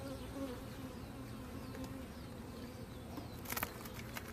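Bees and wasps buzz around a beehive during an outdoor hive inspection, a dense steady drone close by with a few louder passes near the end.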